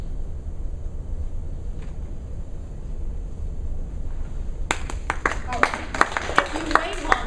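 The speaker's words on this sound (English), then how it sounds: "If you wait long enough, right, people will clap." After a quiet stretch of room hiss at a public library poetry reading, a small audience breaks into scattered, then fuller applause near the end.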